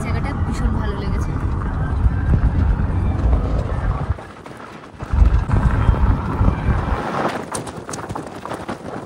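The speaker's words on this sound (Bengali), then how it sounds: "ভালো হাওয়া দিচ্ছে এখানে, বেশ ঠান্ডা ঠান্ডা হাওয়া আছে" Cold wind blows across a mountain viewpoint at Sonmarg in Kashmir in winter, a steady rushing roar buffeting the microphone that dips briefly midway, with people talking over it.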